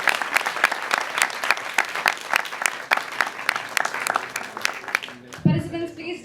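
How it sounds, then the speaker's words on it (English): A large audience claps for finalists at a university Three Minute Thesis competition in Singapore, dense rhythmic applause that carries on until it cuts off near the end, when a voice begins speaking. "Can you please give them a big round of applause?"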